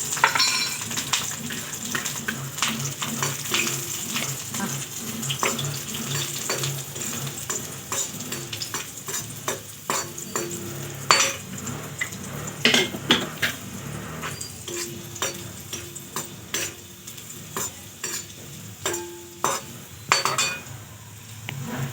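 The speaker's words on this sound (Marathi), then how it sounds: "आता याच्यामध्ये आपण 2-3 लसूण टाकू." Garlic cloves sizzle steadily in a hot pan while making a flaxseed and sesame chutney, with frequent metallic clinks and scrapes of a spoon stirring against the pan, close up and with no talking.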